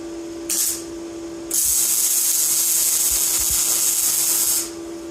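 Welder tack-welding a new sheet-metal panel onto a 1968 Mustang coupe: a short hissing burst, then a steady buzzing hiss lasting about three seconds before it cuts off, close and fairly loud.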